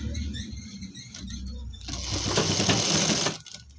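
A sewing machine stitches a pajama pocket, its whir starting soft and swelling into a louder, fast, steady run before stopping abruptly near the end.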